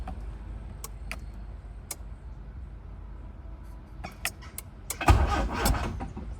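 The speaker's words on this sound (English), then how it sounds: "if I hold the brake down, it should try and crank" An 1988-1991 Honda Civic engine cranks for about a second via an aftermarket push-to-start button, after a few faint clicks in a quiet car.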